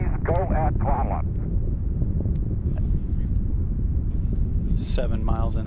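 Space Shuttle Atlantis launch, a continuous loud broadband engine rumble that holds steady throughout, with radio voices from mission control and the crew talking over it.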